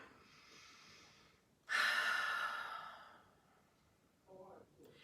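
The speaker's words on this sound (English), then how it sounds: "Taking some more consciously stronger inhales and exhales. Maybe some releasing exhales with the mouth open." Strong, deliberate breaths during a slow yoga session: a long, loud open-mouth exhale after a softer inhale, then quieter breathing trailing off, close to the listener.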